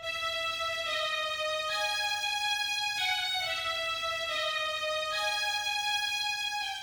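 A sustained violin line in FL Studio glides through long held notes over a faint hiss, soft and alone, with no voices.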